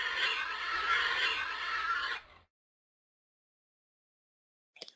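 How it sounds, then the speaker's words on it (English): A pig squeals in a loud, shrill burst lasting about two seconds, then stops abruptly into silence, followed by a brief faint chirp. "What sound does the pig make?"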